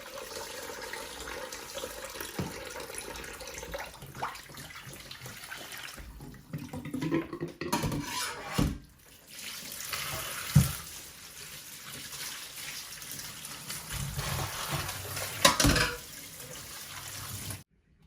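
Tap water runs steadily into a sink while fish is rinsed, with splashing bursts and shifting flow as the fish is moved under the stream, fairly close and continuous throughout.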